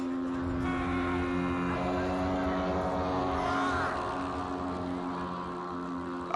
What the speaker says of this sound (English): The pilotless plane crosses the airfield and heads straight for spectators.